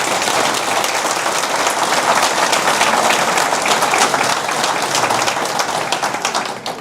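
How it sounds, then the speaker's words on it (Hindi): An audience at a public address gives the two judges a sustained round of applause, a thick, even wash of many hands clapping that continues for several seconds before tailing off slightly. "दोनों जजेस के लिए पहले तालियां बजाएं आप सब लोग।"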